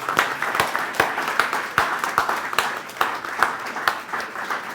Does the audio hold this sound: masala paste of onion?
no